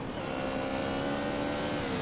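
A motorbike engine in GTA San Andreas drones at a steady, buzzing pitch and climbs slightly over two seconds. It sits fairly quietly in the game mix, and no voices are heard.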